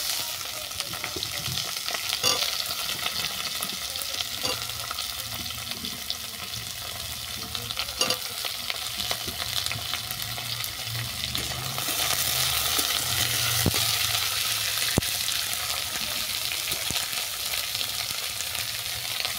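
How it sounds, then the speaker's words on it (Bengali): Bottle gourd pieces and onions sizzle steadily in a hot pan, with occasional scrapes and knocks from stirring. "সমস্ত উপকরণ আমি ভালো করে ভেজে নিচ্ছি"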